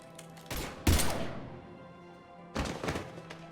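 Gunfire in the video game Mass Effect 3, a couple of heavy booming bursts with a sharp thump and a long decaying rumble, then another burst near the end.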